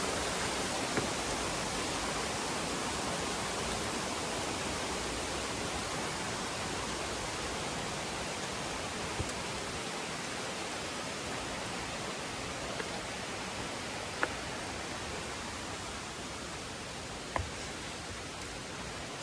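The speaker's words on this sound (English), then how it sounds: "And just behind us, over there, you can hear the water." Steady, dense rush of Tan Rua Waterfall on Koh Samui after days of rain, constant and fairly close, with a few faint clicks over the roar.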